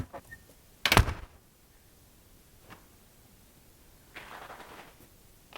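A door with a worn seal on a shed housing a stove burning newspaper and sawdust briquettes shuts with one sharp thud near the start, then a quiet room follows, with a faint rustle later.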